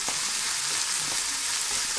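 Soaked wild rice toasting in a lightly heated pan gives a soft, steady sizzle with faint stirring scrapes, close and alone without any voices.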